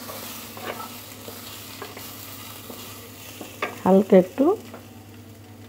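Vegetables fry in a pan with a low, steady sizzle while a spoon stirs in a few scraping strokes, and a person speaks briefly over the cooking near the end.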